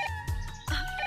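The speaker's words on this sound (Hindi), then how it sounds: "अरे अब किसका फोन आया?" Telephone ringing in a hotel room, two bursts of electronic ringtone in quick succession, clear and close with no talk over it.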